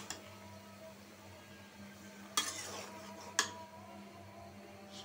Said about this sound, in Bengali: টমেটোগুলা মিশিয়ে দিই।